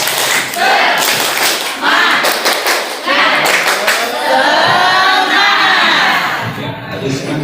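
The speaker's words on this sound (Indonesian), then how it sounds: "semangat, tepuk semangat." Indoor gathering of teachers at a school working-group meeting, a crowd clapping rhythmically and cheering loudly for several seconds, voices shouting along over the applause.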